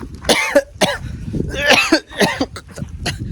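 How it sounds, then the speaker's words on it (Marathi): Several harsh coughs burst out in quick succession from a person outdoors in a village field, loud and close, with a throat-clearing quality and short gaps between fits. "आला खोकला."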